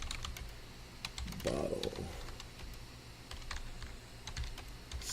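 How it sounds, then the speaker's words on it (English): Typing a search term on a computer keyboard, scattered quick key clicks through the passage with a brief spoken word partway in and a low room hum underneath. "We can just type in Vegas"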